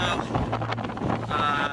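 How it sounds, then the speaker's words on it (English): Steady wind buffets the microphone in a low, continuous rumble on a remote beach, with faint water and boat noise underneath. "it's very windy, y'all"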